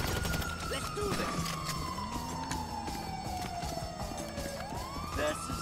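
Ambulance siren in GTA 5, a long falling wail that sweeps steadily downward over several seconds then rises again, loud and close amid dense game sounds and background noise.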